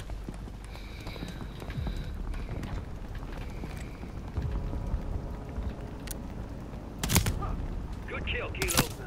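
Enemy gunfire from Call of Duty MW3 crackles in the distance as scattered, faint shots and short bursts under ambient noise and radio chatter, with a couple of sharper, louder reports near the end.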